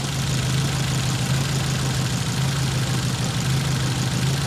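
A Nissan 200SX engine idling with an intermittent misfire, a loud close continuous low hum and rumble with a faintly uneven, pulsing character throughout.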